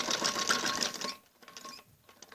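A sewing machine stitching lace along the neck of a kameez jacket runs in a fast, steady whir, then stops and restarts in short bursts, close and clear with no talking.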